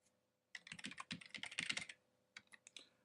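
A quick burst of keystrokes on a computer keyboard rattles out for over a second, then a few scattered taps follow, close and fairly quiet with no voices.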